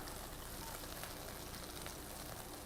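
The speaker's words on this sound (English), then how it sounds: "We'll immediately see it start to bubble and sizzle. Get our broccolini in there." Broccolini sizzling in a hot pan during a home cooking session, a steady dense crackle and hiss holding even and close throughout, with a brief louder clatter at the very end.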